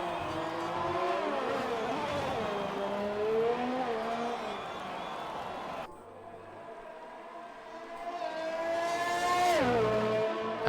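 A Mercedes Formula 1 car in an Xbox F1 racing game at the Spanish Grand Prix, its engine note droning loudly through gear changes and rising in pitch as it rounds a corner toward the end of a lap, under game music.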